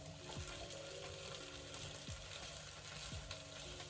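Tartiflette ingredients fry in butter in a pan while being stirred, a steady close sizzle with a few scraping strokes of the utensil across the pan.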